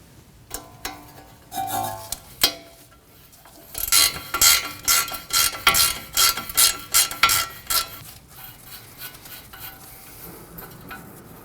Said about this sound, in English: We'll remove the nut for the ball joint with a 19mm.